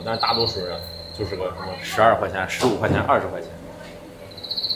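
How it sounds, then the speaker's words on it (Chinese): Crickets and katydids chirp at night with a steady high-pitched trill running behind the scene, while someone talks over it nearby. "啥蛐蛐啊、蝈蝈都在这叫着"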